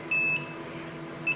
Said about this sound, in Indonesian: buzzer bunyi